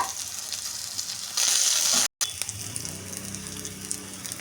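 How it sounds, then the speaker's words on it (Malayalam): Crushed green chilli, garlic, shallots, dried red chilli and curry leaves sizzling in hot oil: a steady crackling hiss that briefly surges louder, cuts out for an instant, then settles back into a softer sizzle. "എണ്ണ ചൂടായിട്ടുണ്ട് ഇതിലേക്ക് ഇനി പച്ചമുളകും വെളുത്തുള്ളിയും ചുവന്നുള്ളിയും ചതച്ചതാണ് ഇട്ട് കൊടുക്കുന്നത്"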